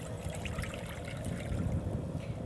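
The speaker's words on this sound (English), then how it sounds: "I'm pouring in water into my pot." Water is poured into a cooking pot for a crab boil, a steady splashing and gurgling stream that stays close and fairly loud throughout.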